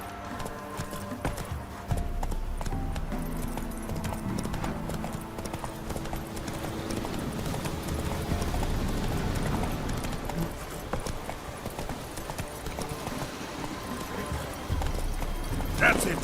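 Hooves of the horse in The Witcher 3 clip-clopping in a steady rhythm as it moves along, continuous and close, with voices speaking over the hoofbeats.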